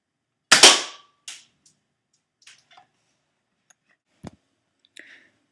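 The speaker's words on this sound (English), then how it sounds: "Okay, second shot with the pump-action shotgun" A pump-action air shotgun fires a single sharp, loud crack at a can, followed by a few faint clicks and small rattles from the shot and target in an otherwise quiet setting.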